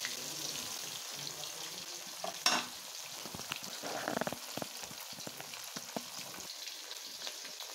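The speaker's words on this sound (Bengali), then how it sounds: "এখন এই মাছটাকে আমি খুব সুন্দর করে ফ্রাই করে নেব।" Chitol fish frying in a pan of oil, a steady close sizzle that runs throughout, with a few sharper spits and the clatter of a utensil partway through.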